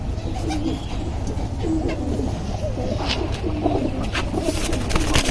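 Soft, low cooing of silver pigeons repeats over a steady, dense background of ambient noise, with occasional faint chirps.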